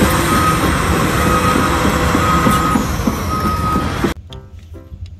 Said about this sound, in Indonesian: mobil truk tambang.